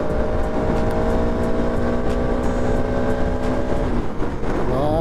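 Motorcycle engine on a Sunday ride, steady and close, droning evenly with slight pitch shifts throughout and a wind-buffeted hiss over it.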